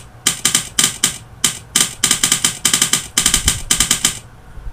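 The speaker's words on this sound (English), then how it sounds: "And it sounds like a keyboard when you type." Typewriter-style key clacks triggered by typing on a computer keyboard, fast clustered bursts of sharp mechanical clicks in rhythmic runs with short pauses, loud and close.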